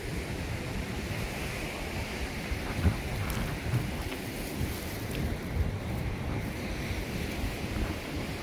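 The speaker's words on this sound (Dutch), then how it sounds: "we zijn aan zee" Sea waves wash against the beach at Bredene under steady wind buffeting the microphone, a continuous roar of surf with a few slightly louder surges.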